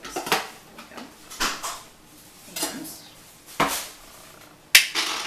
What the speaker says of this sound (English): So I'm going to just pop the lid on.